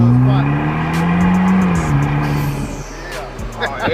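Engine of a 2021 Vanderhall roadster droning loudly while driving, its pitch rising and falling with throttle, with wind noise and excited voices talking over it.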